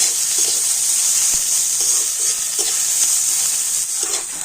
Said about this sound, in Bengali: এখন আমি পেঁয়াজটা কিন্তু একটু হালকা করে ভেজে নেবো